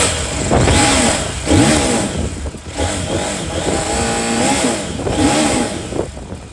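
A CFMOTO IBEX 800 motorcycle revs through its exhaust in repeated loud blips, the engine rising and falling several times between brief idling dips, close and alone.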